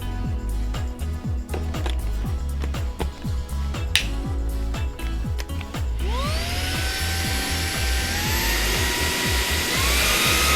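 A Hitz HB-5677 cordless vacuum cleaner with a 20V brushless motor, fitted with a long flat suction nozzle, starts with a rapid ticking pulse and then spins up into a loud, rising whine that settles into a steady high-pitched hum.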